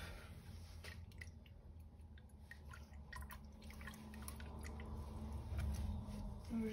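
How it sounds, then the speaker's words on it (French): Paintbrush rinsed in a water jar while painting watercolour backgrounds, giving soft close dripping and swishing sounds at low volume with faint room noise. "Donc je rince."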